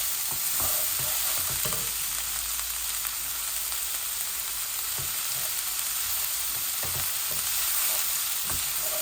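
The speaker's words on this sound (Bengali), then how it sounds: "এখন আমার মশলাগুলো একটু ভাজা ভাজা হয়ে যাক।" Spices fry in oil in a pan for a tilapia dish with cabbage and beans, giving a constant close sizzle with occasional stirring scrapes and taps and no talk.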